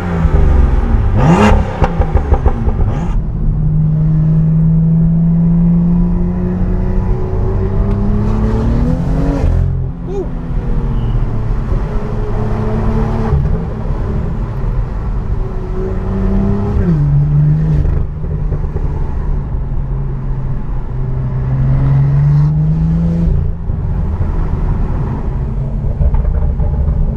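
A supercar engine pulls at full load along a small road through a tunnel, a loud, sustained roar rising and dipping in long sweeps with sharp bursts between.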